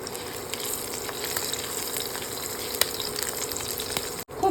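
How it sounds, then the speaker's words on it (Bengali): Two slit green chillies with nigella seeds frying in leftover oil in a pan, a steady close sizzle with a faint crackle throughout and a brief break near the end. "ভালো করে কালো জিরের সাথে লঙ্কাটা ভেজে নিয়েছি"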